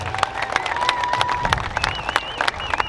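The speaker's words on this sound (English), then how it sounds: "Big round of applause for these guys." A crowd at a snowmobile chassis unveiling gives a short burst of applause, scattered claps and cheers close by, with a few whistles over the clapping.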